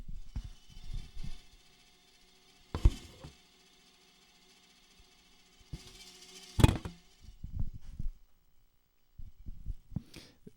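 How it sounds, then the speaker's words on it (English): A VCR rewinding a videotape of Richard Scarry's sing-along Mother Goose, with a steady mechanical whir broken by irregular clunks, clicks and thumps from the tape transport, close and fairly quiet. "That is the sound of Richard Scarry's best sing-along Mother Goose video ever being rewound."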